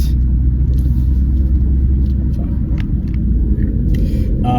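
A car's engine rumbles steadily from inside the moving vehicle, a loud continuous low drone with faint road noise and no talk over it.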